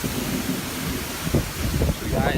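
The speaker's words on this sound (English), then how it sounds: "so I went out in this rain or whatever the fuck this is, in this pre-hurricane conditions" Strong wind and heavy rain roar steadily outdoors in Miami in the conditions ahead of Hurricane Irma, a dense continuous rush with gusty low rumbling surges building toward the end.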